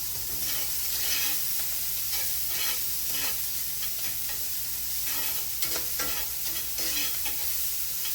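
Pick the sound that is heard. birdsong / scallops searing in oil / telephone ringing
scallops searing in oil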